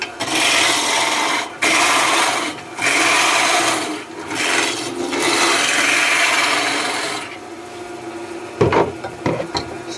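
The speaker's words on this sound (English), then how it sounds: "So first tool, big roughing gouge. Just take some of the meat off." Big roughing gouge cutting wood on a lathe, loud continuous rasping hiss with brief pauses between passes, then quieter tool taps near the end.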